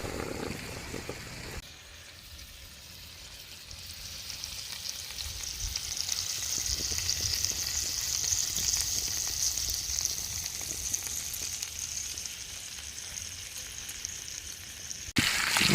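Steak sizzling in butter in a cast iron pan outdoors on a mountain top, a steady loud frying hiss that runs nearly unbroken throughout.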